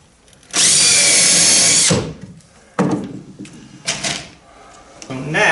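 A power drill drives screws into wooden floorboards for a wooden boat, giving one loud, close, sustained whir of about a second followed by shorter, quieter bursts and knocks.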